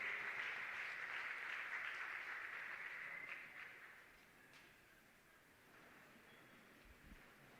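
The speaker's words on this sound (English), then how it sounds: "Let's clap hands." Distant audience applause at a college campus safety forum launch, a dense patter of many hands clapping that fades out midway, leaving quiet room noise.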